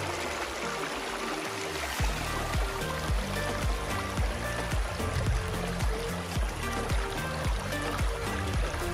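Clean, fast-flowing stream water rushes continuously near a Buddhist stupa site close to Taxila, a loud, steady splashing burble with rhythmic low surges throughout.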